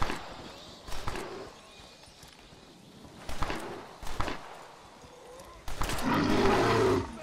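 A bear roars in the Red Dead Redemption: Undead Nightmare video game, with several short loud bursts separated by quieter stretches, then a sustained growling roar near the end, all up close.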